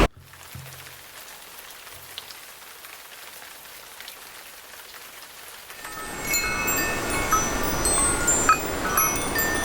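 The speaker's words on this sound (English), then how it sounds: "let's hope the rain stops and I can find somewhere." Rain begins pattering steadily on a surface near a canal towpath mooring, quiet at first and then a dense, close downpour after a few seconds.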